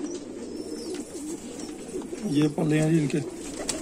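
Sheikho pigeons coo in a few low, throaty bursts, closest and loudest near the end, while someone talks over them.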